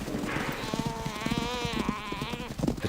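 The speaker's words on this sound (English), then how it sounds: "The chaser can hear the desperate bleat of a topi." A topi antelope gives repeated strained, wavering bleats at night during a lion hunt on the savanna. The calls rise over a steady hiss of insects and rustling movement.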